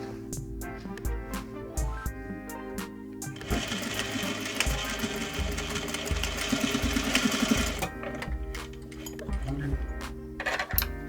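Sewing machine stitching the triangle end of a welt pocket on trousers, with a fast rhythmic mechanical chatter in bursts of a few seconds among lighter clicks and handling sounds, close and clear, with a soft voice underneath.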